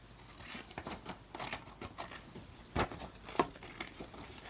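Pattern scissors snipping paper for an art-room collage, close and quiet: a run of soft, irregular crisp cuts and rustles, with two sharper snips near the end.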